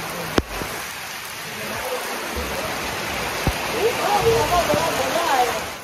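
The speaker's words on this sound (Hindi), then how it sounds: "आप देख सकते हैं कितनी तेज बारिश है" Heavy rain pours in a mountain village at Pangora, Abbottabad, a dense steady hiss with occasional sharp drips and knocks, loud and close, with a voice speaking briefly over it.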